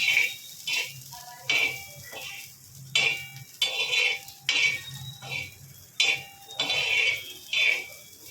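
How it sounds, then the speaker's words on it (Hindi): Chickpeas for chana chaat being stirred and mixed in a bowl, with repeated scraping and clinking of a spoon against the bowl in regular bursts, close and fairly clear, with no talking. "इस तरीके से अच्छे से मिक्स कर लेंगे।"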